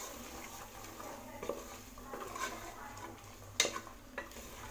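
Boiled chana being stirred into biryani masala in a pan: soft scraping spoon strokes with a light sizzle underneath, plus a few sharper clinks of utensil against the pan, and one louder knock near the end.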